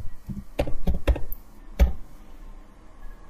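A computer keyboard as a password is typed during a Parrot OS installation: a handful of sharp, close key clicks in short bursts, then a pause and one more firm keystroke, with no talking.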